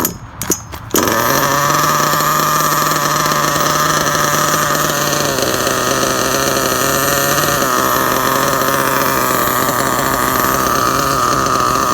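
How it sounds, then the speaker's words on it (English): A Losi 8ight nitro truggy with broken clutch springs runs at a steady high-revving engine whine, loud and close, after a brief sputtering start, with the pitch dipping slightly midway. "Can you hear that metal sound? That's a clutch engaging."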